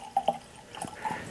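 Woodford Reserve bourbon pouring from a freshly uncorked bottle into a glass: a couple of quick liquid plinks and drips, then a soft trickling gurgle, near and quiet.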